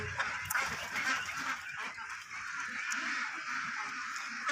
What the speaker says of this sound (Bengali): এখন ম্যাক্সিমাম এক হাজার হাঁস আছে এখানে